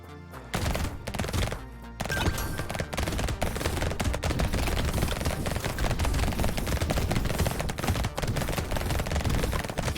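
Relentless rapid SMG fire in Brotato chatters nonstop at a dense, even clip, loud and unbroken after a short opening pause, with weapon hits stacking into a continuous mechanical rattle.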